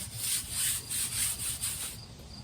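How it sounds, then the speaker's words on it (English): A stiff scrub brush is worked back and forth over a surface to spread a coating around, giving about five steady, rhythmic rasping strokes that stand out clearly and close up. "we have a scrub brush that we like to use just to help spread that around"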